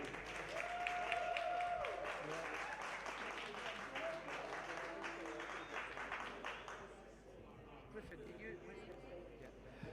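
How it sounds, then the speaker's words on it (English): A street audience breaks into applause for performers, a steady wash of clapping that tapers off toward the end while a host's voice talks over it. "Give them a round of applause, guys."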